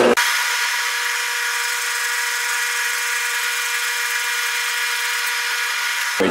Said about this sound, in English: We take a second spring pass over the bushing just to get it to the final size.